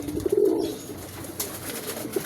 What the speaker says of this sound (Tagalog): Yan, ibon natin yan.